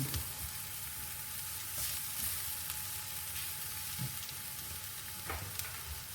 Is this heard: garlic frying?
yes